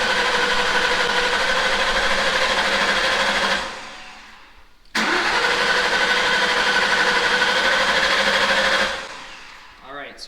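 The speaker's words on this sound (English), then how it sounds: "And then we'll try to start the car." A loud Whipple-supercharged SVT Cobra engine running on 114-octane fuel with a steady mechanical drone, cutting out briefly partway through and then roaring back to life before fading down.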